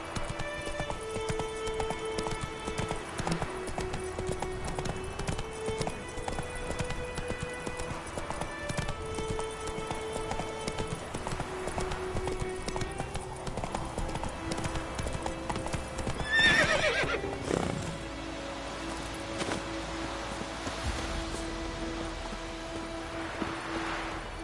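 A horse gallops in The Witcher video game, its rapid hoofbeats drumming continuously over soft background music, with a loud neigh breaking out partway through.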